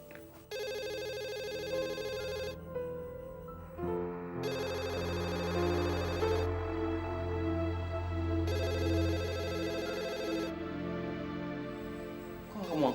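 A telephone rings repeatedly in a domestic scene, loud electronic ringing bursts in a steady on-off pattern across the whole stretch with no talk over it.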